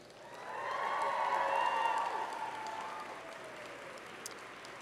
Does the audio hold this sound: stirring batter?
no